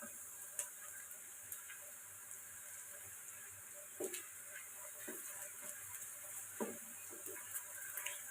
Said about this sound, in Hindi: आप इन्हें खुले ज़्यादा से घी में फ्राई करें